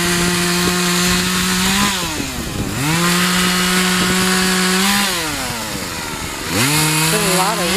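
A chainsaw cutting through a fallen, bug-eaten tree: loud, close engine whine held at high revs, dipping twice as the chain bogs in the wood before climbing again.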